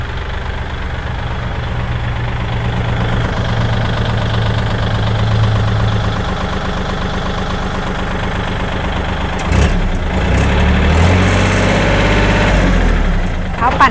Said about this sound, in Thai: เดี๋ยวเราไปดูการทำงานของเพาปั่นนะคะ